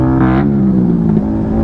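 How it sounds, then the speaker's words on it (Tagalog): A nearby motorcycle engine drones loudly in city traffic, a steady harmonic hum with a brief rise in pitch, heard close from a rider's point of view. "Iingay naman ang motor ni kuya."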